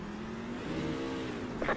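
Race trucks on the Bristol dirt track roar as they accelerate through a restart, a steady mid-pitched engine drone rising in a revving sweep, heard loud and close with no talk over it.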